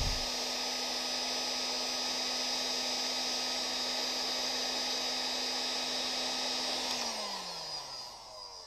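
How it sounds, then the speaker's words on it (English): A heat gun shrinks heat shrink tubing onto the input and output lines of a 13 dB RF attenuator, blowing a steady close whirring roar that switches off near the end and winds down as the motor slows. "And now I'm adding some heat shrink for some structural"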